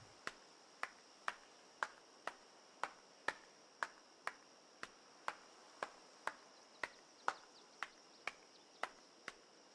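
Project Zomboid character performing a clapping emote: crisp, regular snapping claps roughly every half second, quiet and unaccompanied over a low constant hum.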